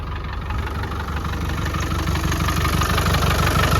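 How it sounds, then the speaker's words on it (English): A 1996 Land Rover Defender 90 with a 300Tdi diesel engine idles close up, a steady, even low clatter that holds constant and alone. "Engine's running nice and smooth."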